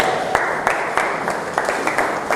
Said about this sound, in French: On applaudit fortement pour la parole de Dieu.